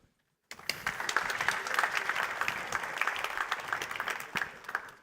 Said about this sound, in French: Donc merci de l'applaudir et à toi